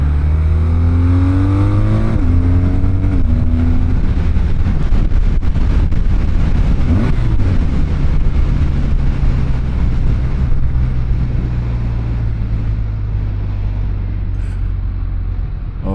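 A BMW R12 motorcycle with a boxer engine cruises on a highway. The engine drone climbs in pitch as it accelerates and then holds steady, with loud wind rush over the microphone throughout.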